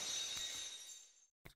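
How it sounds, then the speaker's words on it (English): Glass shattering in the video game Touhou New World, a bright crash that rings out and fades over about a second, then a brief second clink. "Glass shattering."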